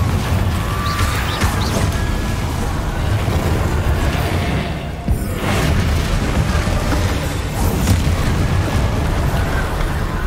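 A Confringo spell explodes in Hogwarts Legacy, giving loud, continuous blasts and crashing debris that swell and dip briefly around the middle before rumbling on.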